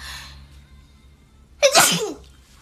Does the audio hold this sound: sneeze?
yes